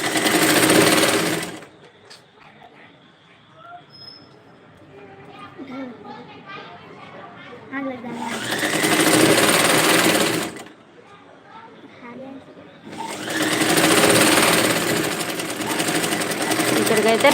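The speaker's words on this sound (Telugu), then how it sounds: "2 సైడ్స్ కూడా కుట్టుకోవాలి నీట్గా." Sewing machine stitching a dress, running in three loud, close bursts of rapid mechanical whirring. Between the bursts, people talk and softer background chatter can be heard.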